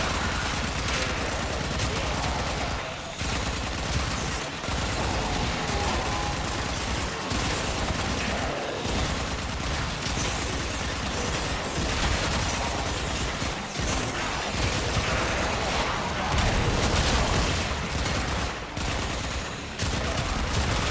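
Rapid, dense gunfire and mechanical clatter from Kullervo's firefight on the Steel Path in Warframe, loud and continuous across the whole stretch with brief dips, no talk over it.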